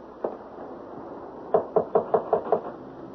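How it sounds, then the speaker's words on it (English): One knock, then a pause, then a quick run of six firm raps on a wooden door, close by. "Now, shall I knock?"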